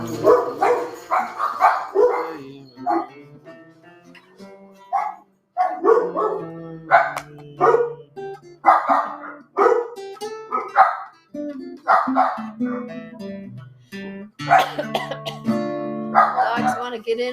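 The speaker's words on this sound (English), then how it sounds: "Dogs want to get in on the act." Dogs bark and yip repeatedly in bursts throughout, close and loud, mixed with people chanting and singing at a Shabbat evening service.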